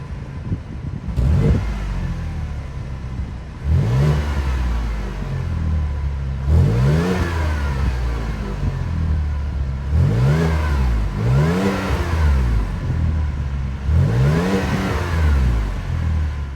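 A 3.6-liter V6 in a 2023 Chevrolet Traverse LT revs repeatedly, a series of five or six throttle blips rising and falling between steady idle, close and loud with no talk.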